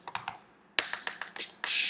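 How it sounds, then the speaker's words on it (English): Someone types on a computer keyboard while coding in Android Studio: a few quick keystrokes, a short pause, then a faster run of clacking taps, close and clear with no voice. "So we just type product"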